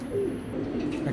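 A pigeon from an Afsan grizzle pair gives a brief, low, soft coo close by, faint and steady against a quiet background with no voices.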